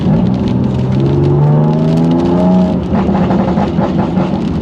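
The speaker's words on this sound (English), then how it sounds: "that is a really pronounced rubbing noise, but I think it is the brakes." BMW M2 Competition driving on the road with its engine running steady, a rising whine under the tyre and road roar, and a constant rubbing drone from the brakes throughout.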